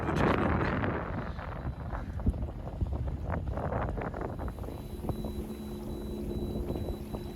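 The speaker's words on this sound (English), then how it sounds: "So a nice wind, 9 or 10 knots." Wind rushing past a sailboat under sail at 9 or 10 knots, a steady broadband roar with gusty buffeting on the microphone and faint water and rigging sounds beneath, no voices.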